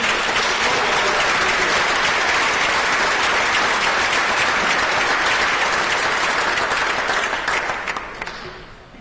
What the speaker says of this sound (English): I just want to give a round of applause to her for coming